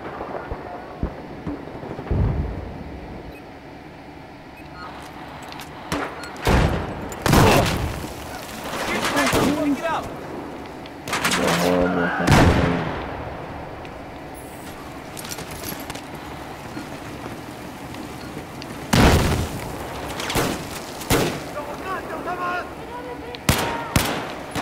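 Gunfire in the video game Battlefield 1, scattered loud shots and bursts of varying intensity through a busy battlefield mix, irregularly spaced over roughly twenty-five seconds.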